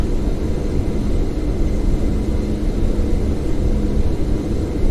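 Cockpit engine drone of an A321 airliner in Microsoft Flight Simulator X, a steady loud broadband roar with a low hum, continuous and unchanging throughout.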